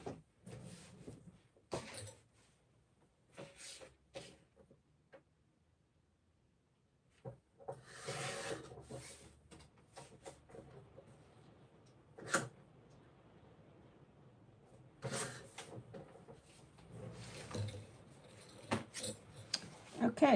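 Designer paper for scrapbooking being cut and trimmed, with scattered brief rustling and rubbing bursts separated by quiet gaps, plus occasional soft handling knocks, close up.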